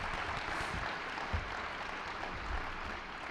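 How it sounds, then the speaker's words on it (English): Steady, dense applause from a conference audience closing out an education panel, a continuous wash of clapping with no talk over it. "Let's give our panel a round of applause"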